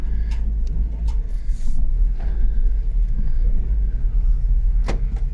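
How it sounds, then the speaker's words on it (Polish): A 2016 Renault GT 220 rolls slowly onto a paint shop lot in the dark, its low engine rumble steady and close throughout, with a couple of faint clicks and knocks over the drone. "muszę tym samochodem bez świateł jakoś wjechać"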